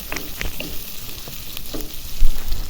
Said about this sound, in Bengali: পেঁয়াজটা ভাজতেছি।